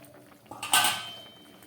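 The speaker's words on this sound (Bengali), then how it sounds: "3-4 মিনিট পরে ঢাকা খুলছি।" A cooking pot's lid is lifted off while vegetables, potatoes and paneer simmer over a low gas flame, making one brief metallic clank and scrape that rises out of a quiet kitchen and then fades.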